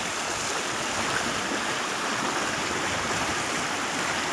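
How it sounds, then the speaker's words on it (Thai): Fast, strong river current rushing at a fishing spot, a steady broadband roar of churning water, close and continuous throughout with no voices. "น้ำเชี่ยวไหลแรงครับ"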